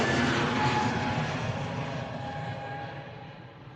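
An Airbus A320 taking off from runway 09 at Bristol Airport, a loud broad jet engine roar that slowly fades as the aircraft climbs away, with faint whining engine tones.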